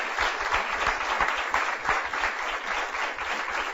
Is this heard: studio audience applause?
yes